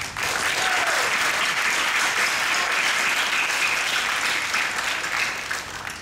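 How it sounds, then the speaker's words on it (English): A graduation hall audience gives a dense, sustained round of applause, loud and even throughout, with no talking over it. "You deserve the most resounding round of applause."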